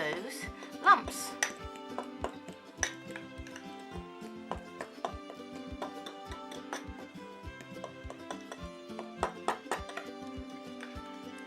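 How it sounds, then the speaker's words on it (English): A fork mashes and stirs bath fizz ingredients in a bowl, making rapid, close, irregular clinks and taps against the sides in a busy rhythm, with no voices over it. "use the fork. And then just mash it up as you're mixing it, just to help break away those lumps"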